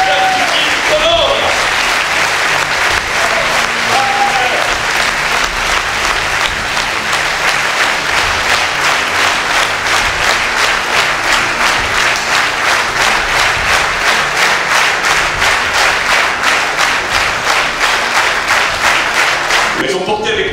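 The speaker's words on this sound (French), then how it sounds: "Je vous demande de réserver une ovation à Miguel Castella, à Patrick Alaka, et à Titi Honor." An audience at a Femu a Corsica political list presentation gives a sustained ovation, dense rhythmic applause that holds loud and steady for about twenty seconds, with crowd noise beneath.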